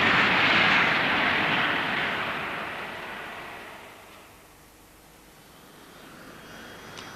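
A Provost piston-engine training aircraft passes close and loud at first, its broad engine roar fading steadily into the distance before a faint rise toward the end.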